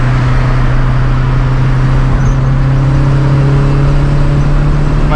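Turbocharged Chevrolet Celta pulls hard under acceleration, heard from inside as a loud, steady engine drone with a strong low hum and rising whir that stays constant for several seconds, no voices.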